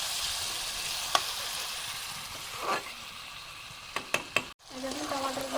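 Tomatoes with salt and turmeric sautéing in a pan, a soft continuous sizzle with a few sharp spatula clinks and scrapes, close but fairly quiet, briefly cut off before resuming.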